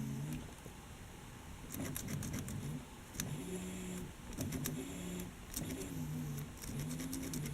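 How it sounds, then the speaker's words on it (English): Fuel pump pressurizing an LT1 engine in a Roadmaster wagon with leaking injectors, a steady low droning whine with a faint rhythmic warble and scattered light ticks and clatter throughout. "Pump sounds really bad, doesn't it?"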